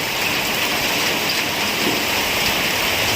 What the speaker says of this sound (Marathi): जोरदार पावसाला सुरुवात झाली